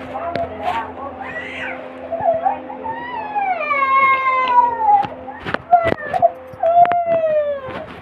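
A cat meows repeatedly in drawn-out, wavering cries, close and loud, mixed with people talking and a few sharp knocks.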